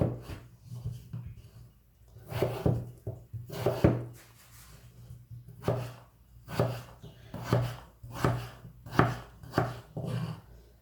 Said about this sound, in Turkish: Önce patatesi doğrayarak başlayacağım.